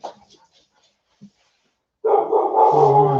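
A dog barks and whines in a sustained, close outburst after about two seconds of near silence broken by faint scattered sounds at the start.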